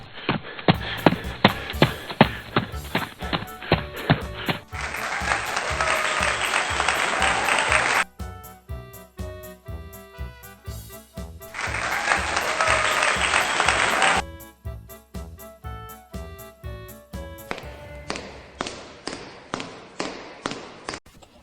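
Young preschool children clap their hands and stomp their feet in a traffic-light game, making rhythmic tapping and thudding beats over music, with louder stretches of dense, noisy clapping or stamping in between.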